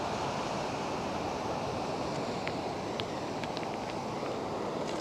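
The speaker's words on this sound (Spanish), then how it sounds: "ya no pudiera escuchar nada porque el mar ya está golpeando más fuerte las olas" Sea waves crashing onto a Mexican beach, a steady loud broadband roar of surf filling the whole stretch with no break, plus a few faint high clicks.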